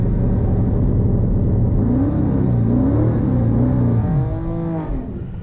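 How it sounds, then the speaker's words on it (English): A Dodge Hellcat fitted with an old transmission launches in second gear, its engine roaring loud and steady with rising, wavering revs throughout, then easing off near the end. "So we're gonna get a second gear launch."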